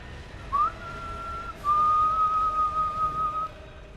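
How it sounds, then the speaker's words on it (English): A person whistles a boss theme from the game Bloodborne, a short rising note and then a long sustained melodic line, clear and close over quiet background hiss. "Is it odd to whistle the boss theme of a boss you've never fought before?"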